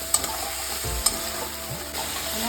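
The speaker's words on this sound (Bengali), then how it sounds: "যে মশলাটা পেস্ট করে রেখেছিলাম সেটা এবার দিয়ে দেবো। মশলাটা এইভাবে কষাবেন।" Spice paste for palak paneer, made without onion or garlic, is fried in a pan with a splash of water. A soft, continuous sizzle is broken by a few sharp scrapes and clinks of stirring, with no voices.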